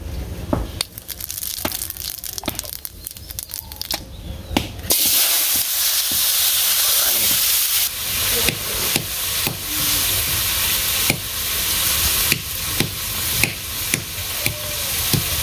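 Oil sizzles loudly in a pan while ingredients are sautéed for khichuri, with frequent scraping and knocking of a spatula against the pot giving an uneven rhythm throughout; a voice briefly speaks early on.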